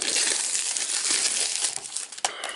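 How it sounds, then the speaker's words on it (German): Plastic shrink-wrap film crinkling and crackling as it is peeled off an X-Men steelbook, a continuous close rustle with a sharper tear-like snap near the end. "muss die nervige Folie abmachen"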